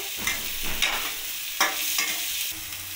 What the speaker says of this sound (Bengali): গাজর আর ক্যাপসিকামটা আমি ভালো করে পেঁয়াজের সাথে ভেজে নেব লাল করে